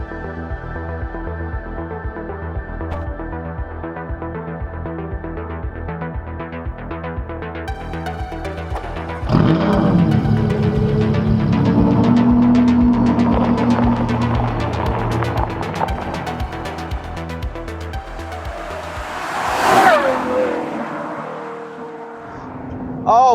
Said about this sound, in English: This drives like a Ferrari. It sounds like a Ferrari.